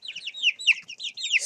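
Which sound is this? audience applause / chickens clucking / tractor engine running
chickens clucking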